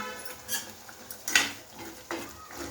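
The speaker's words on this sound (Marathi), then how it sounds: "आणि मस्त त्याला आता ढवलायचं आहे" Metal spoon clinks and scrapes against a pan while spiced masala curry with chilli, cumin and coriander powders is stirred, a few close, sharp taps spaced irregularly at moderate loudness.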